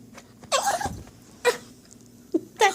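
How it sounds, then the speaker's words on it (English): A pet dog whines softly in the background indoors, a few short high-pitched whimpers spaced apart over low room noise. "That whining in the background would be my doggy, old Bobby there."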